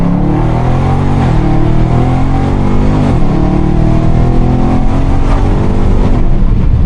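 Tuned Dodge 392 Scat Pack V8 revving hard against the rev limiter, heard as a very loud, close roar with rapid stuttering cuts and repeated rises in pitch, with no talk.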